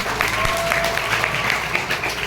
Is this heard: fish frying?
no